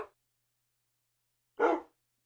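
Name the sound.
wolf barking in video game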